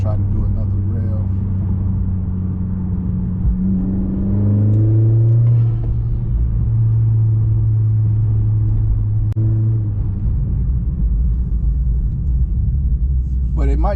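A 2020 Honda Accord Sport fitted with a PRL downpipe idles with a deep rumble, then revs once and settles back to idle while someone talks over the engine.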